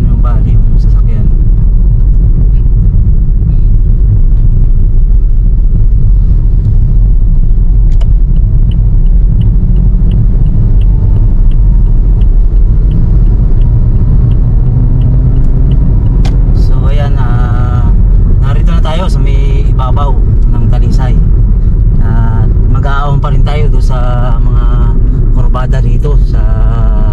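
Car driving along a road near Talisay, Batangas, with a steady low engine and road rumble throughout, heard from inside the vehicle, and people talking over it.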